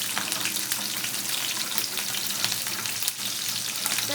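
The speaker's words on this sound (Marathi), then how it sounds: "चांगलं असं मिरचीला गरम होऊ." Green chillies and curry leaves frying in hot oil in a kadhai for upma, a dense, loud, continuous sizzle with crackling spatter throughout.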